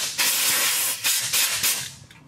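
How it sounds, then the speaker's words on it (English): Compressed air blowgun blasting debris from the rear differential of a 2016 Ford E-450 motorhome: loud, close hissing bursts in several surges, tapering off at the end. "I'm going to spray it with blowgun, get the compressed air and blow it all out of there."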